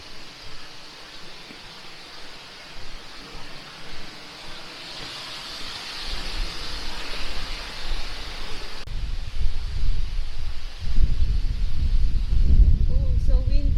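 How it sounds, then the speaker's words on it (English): Wind gusts through trees in a nature park at Osbroek, Aalst, a broad rushing hiss that swells and grows louder with low buffeting rumble toward the end. "oh, so windy."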